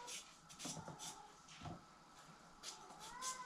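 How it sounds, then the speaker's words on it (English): A cat meows several times in the background of a kitchen, the calls faint and intermittent, sounding through quiet room noise with no talking. "You can hear the cat again in the background."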